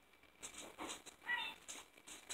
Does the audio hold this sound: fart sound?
no